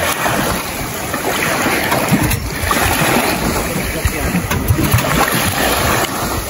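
A motorboat engine runs steadily close by on the water, a continuous rumbling drone mixed with wind noise and water splashing.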